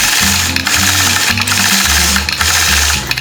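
Sewing machine doing free-motion quilting of a pine tree motif, a loud close rapid stitching chatter in short bursts with brief pauses between runs, no talk.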